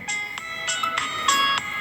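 A notification bell sound effect rings out in a quick run of about six bright, chiming strikes over roughly two seconds, clear and fairly loud, with no talking.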